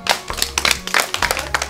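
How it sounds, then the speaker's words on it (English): A primary school class gives a pupil a short round of clapping, individual sharp claps distinct and fairly close in a classroom, lasting under two seconds. "Well done, Frankie, give him a clap."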